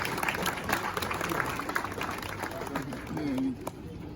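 At a school event where educational items are donated, a gathering claps to welcome a headmaster; scattered sharp claps sound at moderate distance, mixed with voices and crowd murmur.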